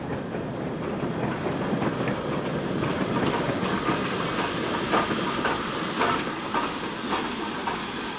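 A steam train climbs the mile-long 1 in 60 Parkstone Bank, banked in the rear by a tender-first Standard 5 4-6-0, giving a loud, steady roar and hiss with faint rhythmic beats running throughout.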